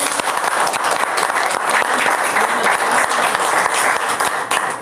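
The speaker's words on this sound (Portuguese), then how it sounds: "eu queria pedir uma salva de palmas" A lecture audience gives a sustained, dense round of applause at an event on suicide prevention, steady and loud throughout with no clear voices.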